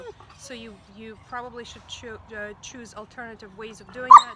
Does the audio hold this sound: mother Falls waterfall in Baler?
no